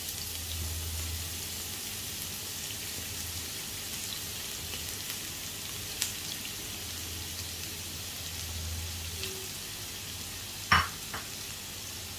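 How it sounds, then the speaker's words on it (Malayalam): Chopped onion frying in a pan for rava upma gives a steady, soft sizzle throughout, with a few faint clinks of a utensil near the end and no talking. "ഇതിലേക്ക് നമുക്ക് സവാള അരിഞ്ഞത് ഇട്ട് കൊടുക്കുകയാണ് ഞാൻ."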